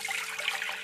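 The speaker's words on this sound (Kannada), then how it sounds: "ಸ್ವಲ್ಪ ನೀರು ಹಾಕಿ ಹಾಕೊಳ್ಳೋಣ" Water is poured into a pot of lentils cooking on the stove, a steady close splashing trickle that runs unbroken for under a second.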